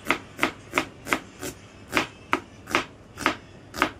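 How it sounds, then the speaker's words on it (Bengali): An onion chopped finely with a knife on a board: eleven crisp, evenly spaced chops in a steady rhythm, close and clear, with no talking. "পেঁয়াজটাকেও কুচি কুচি করে নিই।"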